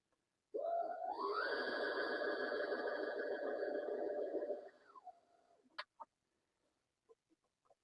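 A home sewing machine winds a bobbin with a steady, loud whirring hum that runs for about four seconds, then slows and stops, followed by a few small clicks and taps.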